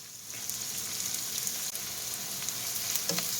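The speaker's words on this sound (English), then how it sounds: "Just going to break these up a touch just to get all those onions nice and broke up in there. Give those just a minute to cook." Onions and celery fry in a hot pan with a steady, close sizzle and crackle, plus occasional soft stirring scrapes, no talking.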